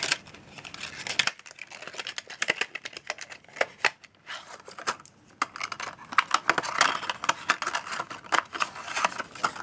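Plastic packaging crinkles and rustles as a Dixie Plates nail stamping plate is unwrapped, producing a dense, close run of crackling and crumpling with brief gaps.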